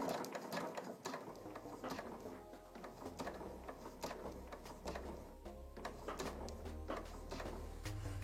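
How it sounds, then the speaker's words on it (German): Sewing machine stitching a seam on a top, a rapid continuous mechanical patter of the needle close up, fairly quiet, running steadily with brief pauses. "jetzt vorsichtig weiternähen bis zum Ende von der Naht"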